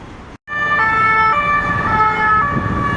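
A loud wailing police siren with shifting stepped tones, close by, over road traffic noise at a large Paris intersection, after a brief gap at the start.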